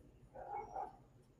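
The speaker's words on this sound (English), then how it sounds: "Sorry about the dog, yeah." A single muffled dog bark, short and faint, somewhere off in the room under a low background hum.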